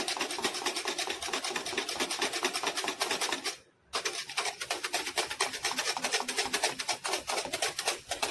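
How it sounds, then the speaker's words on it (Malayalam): Rapid rhythmic scraping of a wire whisk beating a single egg white into foam in a bowl for a face peel mask, loud and continuous with one brief pause midway, no voices. "നമ്മളൊരു വിസ്ക് വെച്ച് നന്നായിട്ട് ഇങ്ങനെ പതപ്പിച്ചുകൊണ്ടിരിക്കുകയാണ്."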